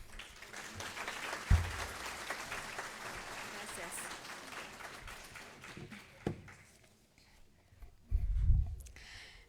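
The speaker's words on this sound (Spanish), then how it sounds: "la vamos a recibir con un fuerte y cálido voto de aplauso" A seminar audience of lawyers and legal professionals in Bolivia applauds a featured guest with a steady, fairly loud burst of clapping that thins out after several seconds, with a few thumps and a voice near the end.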